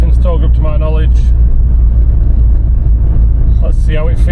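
A Renault Clio 197 fitted with polybushes drives on a road test, a loud steady engine and road rumble from inside the cabin throughout, with someone talking briefly at the start and end.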